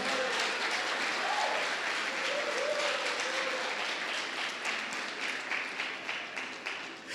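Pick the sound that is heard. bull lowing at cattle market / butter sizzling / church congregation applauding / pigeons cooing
church congregation applauding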